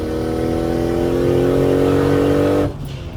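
A 400 WHP Nissan Stagea 260RS engine revving up to about 4,000 RPM, a loud, close, steadily rising engine drone that cuts off sharply near the end, leaving quieter road noise.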